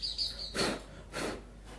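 Wild-caught songbirds being unpacked, with several short, bright chirps and tweets at close range, interleaved with two soft rustling bursts of handling.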